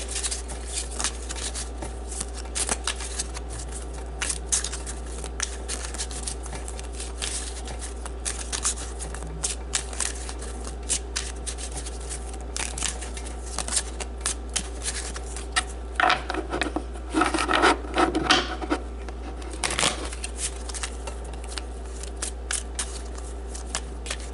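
Gypsy cards being shuffled, with soft papery flicks and rubbing scattered throughout, plus a denser burst of riffling near the end. Close and quiet over a steady low hum.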